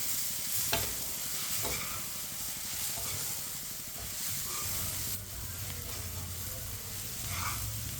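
A spoon works grated carrots and semolina around a hot pan for carrot halwa, steady scraping strokes over a constant frying sizzle and faint steam hiss, close up, with no talking.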